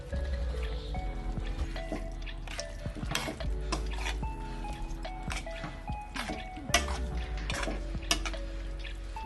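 A spoon works through chicken in a cooking pot, giving repeated wet squelches and clinks against the metal in a steady rhythm over several seconds, with no talking.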